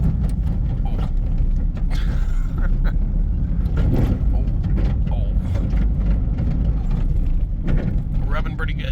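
Smart Car fitted with rope and rubber tracks and a lift kit, driving a rough road to town: a constant loud mechanical rumble with rattling, clanking and rubbing throughout, no tires to soften the bumps.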